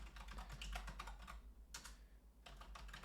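Fast typing on a computer keyboard while entering code, with rapid clusters of key clicks, a brief pause, then another burst. Close and clear, with no talking.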